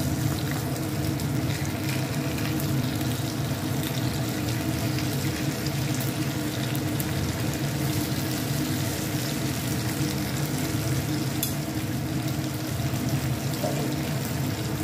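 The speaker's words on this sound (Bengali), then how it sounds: "আর তেলগুলো একটু চামচ দিয়ে উঠিয়ে মাঝে মাঝে একটু উপরের দিকে দিলে সম্পূর্ণভাবে সুন্দরভাবে ভাজা হয়ে যাবে।" Fish frying beach-style in hot oil in a pan, a loud continuous sizzle and crackle running steadily throughout without pause.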